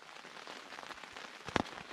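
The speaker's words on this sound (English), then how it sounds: "It's still raining now." Rain falls steadily on the Appalachian Trail in the morning, a soft, dense patter with one sharper drop-like tap near the end, heard alone without voices.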